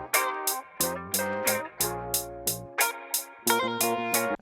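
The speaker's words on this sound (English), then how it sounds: "I layered 2 hi-hat patterns this time" Layered hi-hat pattern in an old-school FL Studio beat, with bright ticks repeating at a steady rhythm over sustained melodic chords. It sounds loud and up front, with no talking.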